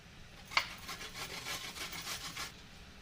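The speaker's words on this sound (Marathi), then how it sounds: "हा एक आवळा किसून घेते मी" An Indian gooseberry, or amla, is grated for lemon pickle with a soft, rhythmic rasping of repeated close strokes after a single sharp tap at the start.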